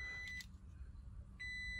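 Remote-locking security beep from a Mitsubishi Pajero Sport, heard as sharp, clear electronic chirps, one at the start and another near the end, over a low steady hum inside the car.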